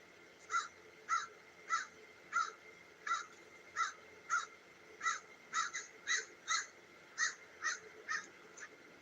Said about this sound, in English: This bird is not happy about me.